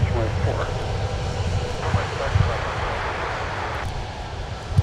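An Icelandair airliner taking off at MSP airport produces a broad, steady engine roar mixed with wind noise, distant and sustained throughout, with a few faint knocks and no clear talk.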